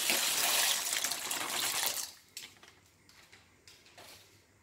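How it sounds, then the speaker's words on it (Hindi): Macaroni pasta is tipped into a pot of boiling water, making a loud, broad rushing splash that lasts about two seconds before settling into softer bubbling and a few light knocks. "अब जब ये पानी उबल रहा है तब मैं इसमें ये मैकरोनी के 2 पैकेट शामिल करूंगी।"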